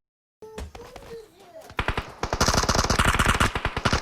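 Rapid automatic gunfire in the PUBG Mobile battle game, a dense run of loud, close bursts that builds from scattered shots into sustained rattling fire, with a few tonal game sounds early on.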